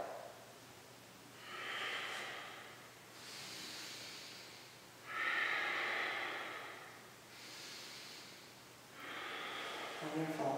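Slow, deep breaths during a yoga stretch, long soft inhales and exhales alternating in an even rhythm, close and fairly quiet, with no talking.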